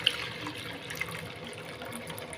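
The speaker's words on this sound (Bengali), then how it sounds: "জল পরিবর্তন করে দিচ্ছি।" Water being poured and changed while rinsing potatoes, a short, steady stream of running water close by with faint splashes and no talking.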